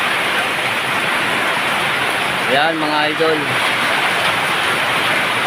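Heavy rain pours in a continuous loud hiss throughout during a typhoon, with someone speaking briefly over it midway.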